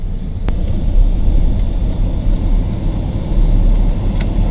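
A car drives along a residential street and turns a corner, its interior engine and road rumble loud and steady throughout with a few faint clicks on top.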